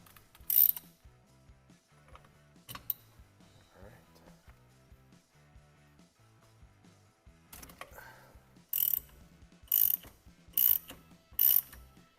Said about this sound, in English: we'll use a 15/16 inch socket, deep socket, to remove the center nut on the steering wheel